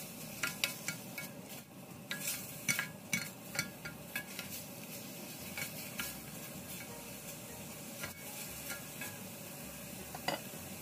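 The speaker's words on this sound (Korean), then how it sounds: "먼저 냄비에 밑간에 놓은 고기를 먼저 볶아줍니다" Seasoned pork sizzles and crackles in a hot pot while a utensil repeatedly scrapes and stirs, with steady frying hiss underneath.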